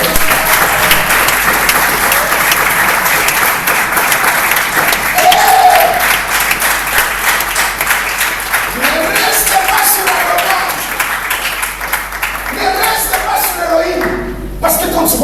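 A church congregation at a Sunday service claps and cheers together, dense sustained applause throughout, with voices calling out underneath and some music.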